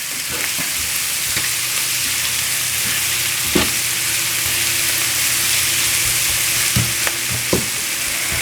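Spring rolls fry steadily in a pan with a dense, continuous sizzle, broken by a few sharp clicks and knocks as they are moved about. No talking.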